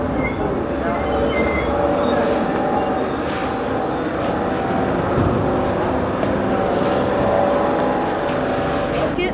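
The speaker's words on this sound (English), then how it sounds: "Here we are on the metro." A Cairo Metro train rolling on its rails, with a loud, continuous rumble and high metallic wheel squeals heard from inside the car, plus faint voices in the background.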